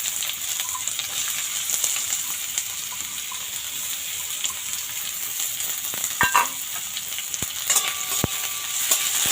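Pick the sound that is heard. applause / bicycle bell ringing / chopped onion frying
chopped onion frying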